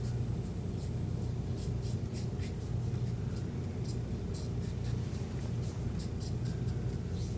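A straight razor blade shaving the mustache area, soft repeated scraping strokes in short bursts against skin and stubble, close and quiet over a low steady background hum.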